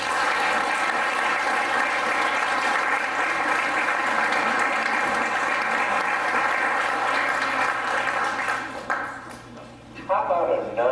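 Sustained applause from an audience at a Veterans Day ceremony in Oxnard fills most of the stretch as a dense, loud wash of clapping, thinning near the end as speech comes through.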